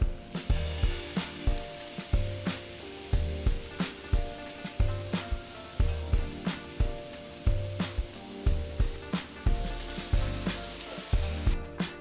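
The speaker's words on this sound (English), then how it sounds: "I think it's time to start adding it to the skillet a little bit at a time." Cabbage sizzles steadily as it is added a little at a time to a hot skillet, with rhythmic scraping and stirring pulses repeating every second or so over the constant frying hiss.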